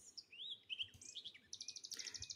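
Several small birds chirp and tweet in quick, bright bursts, with sweeping calls giving way to a rapid run of repeated notes, fairly close and alone without any talk, set among the birds of India.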